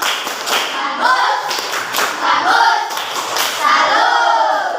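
A classroom group applauds a student group, with dense, continuous clapping from many hands filling the room and a few louder thuds mixed in.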